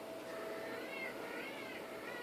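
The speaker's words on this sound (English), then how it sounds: "that's a cat calling her babies." A cat meows to call her kittens, giving a short, faint, wavering cry that holds steady for about two seconds against a quiet background.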